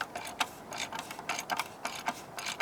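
Quick repeated clicking of a ratchet socket wrench, a 15/16 socket, loosening the oil filter on a 2014 Jeep Grand Cherokee with a 3.6L V6, steady fast ratcheting up close with no talk.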